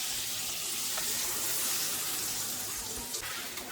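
Steady, dense sizzling of potol (pointed gourd) and boiled mung dal being stirred together in a hot frying pan, a continuous close hiss with faint scraping and no pauses.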